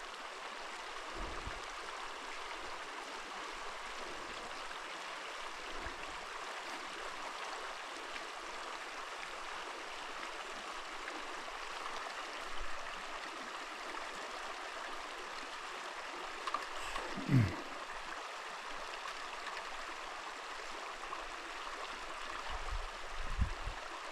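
Florence Creek in the Cloud Peak Wilderness runs with a steady, soft rushing hiss that holds evenly throughout, with a few faint thumps and brief rustles close by.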